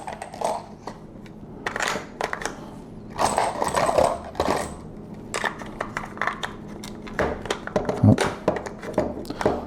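A Maglulu magazine loader presses 300 Blackout rounds into a PMAG, giving a rapid series of clicks, clacks and metallic thunks in irregular bursts, close by, with no talking.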